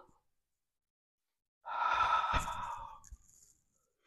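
A single long, audible exhale during a Pilates breathing exercise, a breathy sigh lasting about two seconds after a quiet pause, close and clear with no talking.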